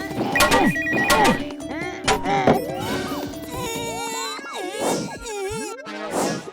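Cartoon telephone ringing in a Hindi animated comedy about an uncle and nephew, a bright repeated electronic ring mixed with whacks, crashes and cartoon effects, with lively voices talking over it.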